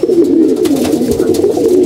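Pigeons kept for breeding coo in a low, continuous warble, loud and close, with no voices over them.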